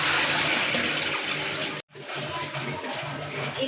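Soaked rice being drained of its water in a home kitchen while making mandi biryani, a steady rushing pour of water that runs loud and continuous, with a brief break partway through before it resumes.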